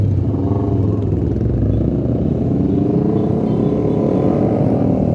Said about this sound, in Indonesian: Kita nyalain motor dulu.